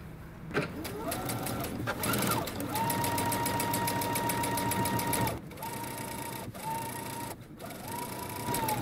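A sewing machine understitches along the edge of a pocket in short close bursts of fast whirring stitches, stopping and restarting several times. A voice can be heard at times.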